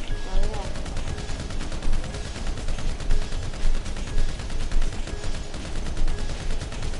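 Dense gunfire crackles in a GTA game, with rapid, close shots layered under a constant busy din and occasional louder bursts, while a voice talks faintly underneath.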